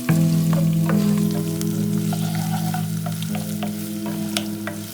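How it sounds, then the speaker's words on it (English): Ginger frying in a hot pan for chicken wings with Sichuan pepper, a steady close sizzle with faint stirring clicks running throughout and no voices. "Then I'm going to fry ginger also 1 minute or 2 minutes."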